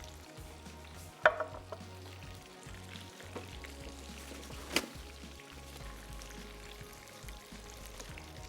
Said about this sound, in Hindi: अब यहाँ पे हमारी चिकन जो है फ्राई हो रही है